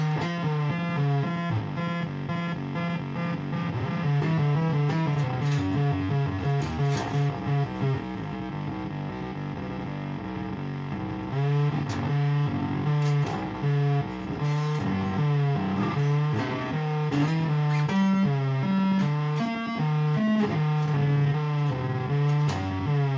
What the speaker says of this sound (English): in this position the bass is going through the synthesizer.